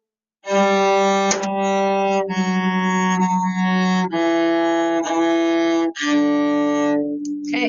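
Solo cello plays the A section of a beginner lesson piece. A sequence of steady, bowed notes is separated by brief breaks, full and close with no talking over it.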